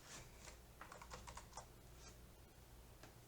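Keys clatter on a computer keyboard during a spreadsheet data-entry session, a steady run of quick, close clicks and taps with no voices.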